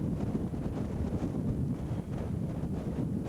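Wind blows steadily beside a river on a day when wet clothes and gear are laid out on the rocks to dry, a dense, rumbling buffeting that stays constant and fairly loud throughout.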